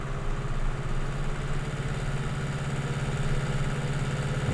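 A tractor engine idles steadily in the Farming Simulator video game, a low, even rumble with a throbbing pulse that runs throughout without change.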